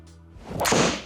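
A golf swing with a Callaway ELYTE fairway wood, a rising whoosh of the club followed by a loud, crisp strike of the ball, heard once and close.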